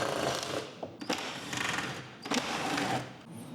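Screws are backed out of the front cover of a totaled Tesla with a loud, close mechanical whirring that runs in sustained bursts, broken by a couple of brief pauses and clicks.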